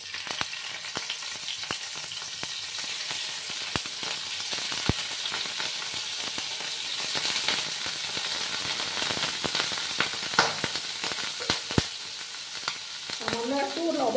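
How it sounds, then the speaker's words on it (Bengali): Paneer frying in hot oil and ghee, a steady dense sizzle with crackling pops and spits throughout, close and continuous. "আমার তেল আর ঘিটা গরম হয়ে গেছে। এবার আমি পনিরগুলো দিয়ে দেব।"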